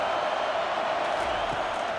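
Stadium crowd noise roaring steadily at a college football game between Texas and South Carolina on a big third down, a dense distant wash of cheering with no break.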